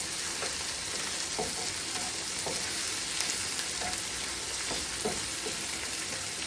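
Eggplant slices fry in a hot pan with a steady, dense sizzle and crackle throughout, plus occasional soft clicks and pops from the pan, close and continuous with no talking.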